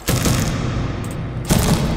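Loud gunshot-like menu sound effects from the video game Sker Ritual, two heavy booming bursts with rumbling tails, close and harsh, the second striking about midway through.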